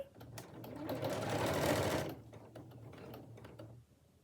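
A sewing machine stitches the hem of an adjustable apron, running in a loud steady burst for about two seconds before easing into lighter, intermittent mechanical ticking.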